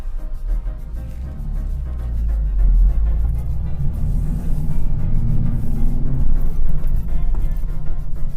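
A car's engine drones steadily from inside the cabin on a test drive, a loud, continuous low rumble that swells slightly partway through, with no voices.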